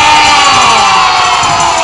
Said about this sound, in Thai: กองเชียร์เสียงปรบมือดั งๆเย้